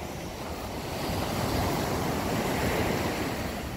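Strong open-sea surf rolls onto the beach at Playa Sardinera in Isabela, Puerto Rico, a steady loud wash of breaking waves swelling midway, with wind buffeting the microphone and no voices.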